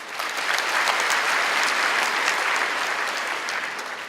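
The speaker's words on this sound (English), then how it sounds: "So you all owe yourselves a big applause for that." Dense, steady applause from a large commencement audience, many hands clapping together at full strength for about four seconds with no break.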